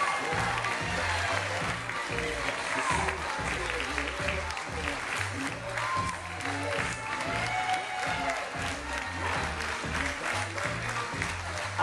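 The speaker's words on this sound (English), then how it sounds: "A big round of applause for our bridesmaid, Sarah Corsetti, escorted by usher Brian Costa." Wedding guests applaud for a bridesmaid and usher entering the reception, clapping steadily over loud, thumping dance music with a pulsing bass beat, and voices mixed in.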